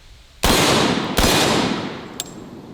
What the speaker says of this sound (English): Man, for double-aught Buckshot, that was very soft shooting